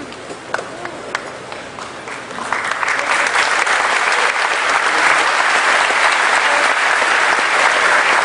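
Applause at a high school graduation ceremony swells from scattered claps into a loud, sustained roar of clapping from a large crowd in a big hall.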